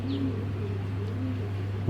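Racer pigeons cooing softly in a loft, a few low murmuring coos over a steady low hum, faint and close with no talk.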